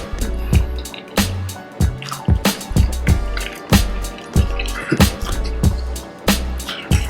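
Someone chewing a bite of homemade Philly cheesesteak close to the mic: wet, squishy mouth sounds with a repeated chewing rhythm and occasional smacks, loud and intimate, with no talking.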